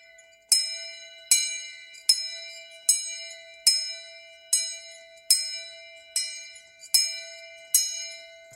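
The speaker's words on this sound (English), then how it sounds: "This bell is an actual school bell that I purchased from a very haunted antique shop." A large school bell rings in steady, evenly spaced strokes, about eleven clangs, each ringing out bright and metallic before the next strike.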